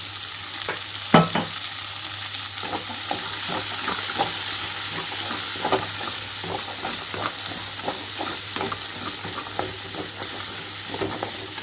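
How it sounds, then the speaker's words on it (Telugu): Garlic, carrot and beans frying in a pan for paneer fried rice, a continuous close sizzle with frequent spatula stirring clicks and scrapes throughout, no voices. "క్యారెట్ కూడా దీంతో పాటుగా బీన్స్ కూడా వేసి వేయించుకుంటున్నాను"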